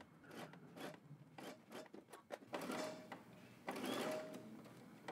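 A sewing machine stitches swim trunk fabric in quiet, irregular bursts of rapid mechanical chatter and rubbing, the stitching sounding close but faint.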